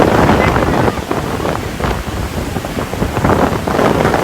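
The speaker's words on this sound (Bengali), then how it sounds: "ঝড়ো হাওয়া" Strong gusty storm wind from Cyclone Remal roars and buffets the microphone on the coast in surging waves, loud and close, with a rough rushing noise like surf beneath.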